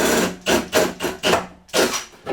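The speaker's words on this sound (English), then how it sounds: "I start to drill, and as I see that I'm gouging the hole and ready to go through, I'll stop and pulse the drill" A power drill bites through a Mercedes Sprinter van panel in short pulsed bursts, about six sharp rasping spurts separated by brief gaps, loud and close with no voices.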